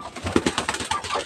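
Two pigeons coo close by while being fed by hand, with short soft calls repeating over scattered low rustling.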